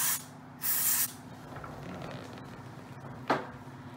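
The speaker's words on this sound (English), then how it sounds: "Yeah, spray it real good." Short hissing bursts of aerosol spray aimed into an Oculus Quest 2 controller, one loud two-part burst near the start and a brief sharp spurt near the end, close and alone.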